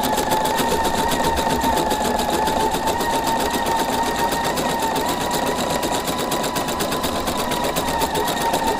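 An embroidery machine couches yarn onto fabric in a fast, even needle rhythm, a steady close mechanical hum and rapid ticking with nobody speaking.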